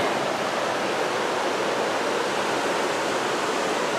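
A river rushes past a mining site in a steady, loud broadband roar of flowing water that continues without a break.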